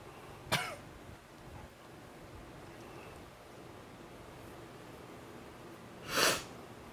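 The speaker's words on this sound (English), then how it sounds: "I'll sneeze again." Two sneezes from a woman in a studio, a sharp one near the start and a louder, breathier burst near the end, with quiet room noise in between and no talking.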